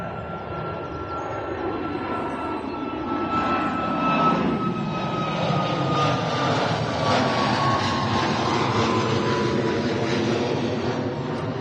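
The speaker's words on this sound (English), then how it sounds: "So here's our first departure. Ryanair to Milan." A Ryanair jet departs Manchester Airport bound for Milan, its engines a steady, loud roar with a rising whine held throughout at moderate distance, with no speech.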